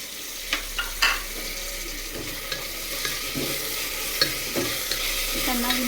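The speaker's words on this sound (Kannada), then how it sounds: "ಸ್ವಲ್ಪ ಕರಿಬೇವು ಸೊಪ್ಪನ್ನು ಹಾಕಿ ಸ್ವಲ್ಪ ಮೆಂತ್ಯ ಸೊಪ್ಪನ್ನು ಹಾಕಿ" Curry leaves and fenugreek leaves stir-fry with ginger-garlic paste in a pan for North Karnataka palak rice, a steady close sizzle broken by a few soft scraping taps.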